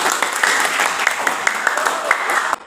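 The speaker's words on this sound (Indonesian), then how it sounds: "beri tepuk tangan untuk kelompok 1" Students in a classroom clap for group 1, a lively patter of many hands with voices mixed in, heard close and steady until it stops abruptly at the end.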